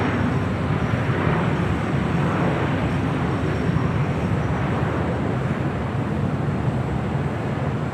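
A jet airliner roars steadily at LAX airport during a takeoff or landing, a continuous broad engine rumble heard from some distance with no voices.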